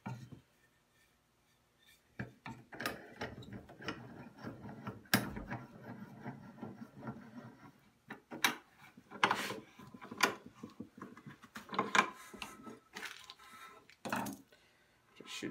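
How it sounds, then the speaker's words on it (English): A rasp scrapes along a wooden hand axe handle in irregular strokes, close and dry with rough grating bursts separated by short pauses. "Just end up using the rasp again."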